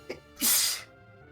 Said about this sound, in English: Man, you're sniffly and I'm sneezing.